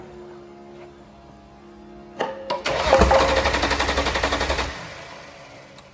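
A Holden VL Berlina turbo engine from a patina-style build is cranked. After a couple of clunks, it churns through a rapid, rhythmic run of starter-motor turns for a few seconds, close and loud, then stops without catching.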